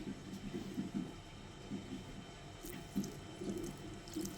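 Water pours into a bowl of onion mixture for pakoda batter, a faint gurgling trickle in uneven bursts with light background hum, no speech.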